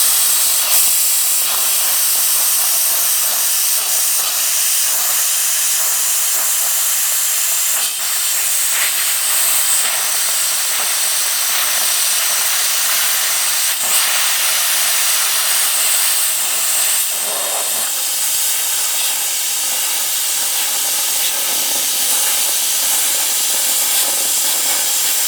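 Plasma cutter slicing through a steel I-beam, a loud continuous close hiss and roar that holds steady for the whole stretch with slight shifts in tone, no talking.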